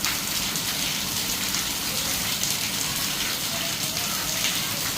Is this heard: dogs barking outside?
no